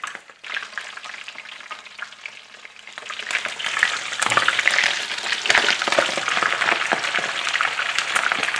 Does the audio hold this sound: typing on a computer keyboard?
no